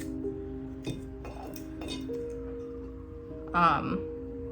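A hand-painted antique glass dresser box is set down on a surface, giving a brief glassy clink near the end, close by, over a steady background hum with faint voices.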